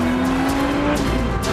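Volkswagen Golf R32 bi-turbo at full throttle on the Nardo high-speed test track, a loud steady engine drone with rushing wind and tyre roar, continuous and close throughout.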